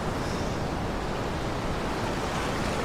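Rough sea waves wash and roar in a steady, dense surge of broadband noise, loud and continuous with no voices.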